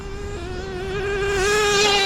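Traxxas JATO 3.3 nitro RC car engine buzzing steadily on an AstroTurf field, a high, thin whine that rises in pitch and grows louder as it accelerates, heard alone.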